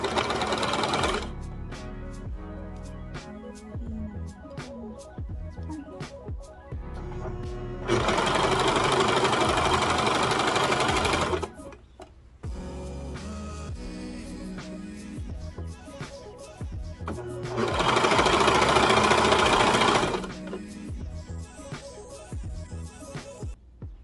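A cover stitch sewing machine sews down elastic on a mock turtleneck tank top, with two loud, sustained runs of rapid stitching separated by quieter handling and brief clicks nearby.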